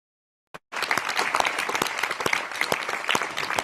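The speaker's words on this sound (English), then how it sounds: "they instead watch the applause the European Parliament gives to Julian Assange" Members of the European Parliament applaud Julian Assange, the clapping starting abruptly after a brief click and silence and then continuing as a full, sustained chamber-wide ovation.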